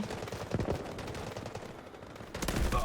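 Gunfire in the mobile shooter Delta Force: Hawk Ops, with rapid bursts of automatic shots at moderate loudness and a heavier volley near the end.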